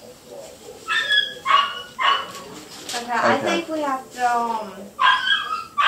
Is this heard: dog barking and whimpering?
yes